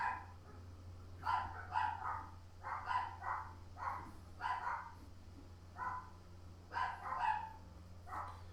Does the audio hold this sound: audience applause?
no